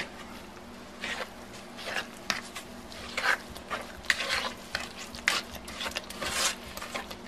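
Zucchini bread batter with vegetable oil stirred in a bowl, close wet scraping strokes in an irregular rhythm over a faint steady hum.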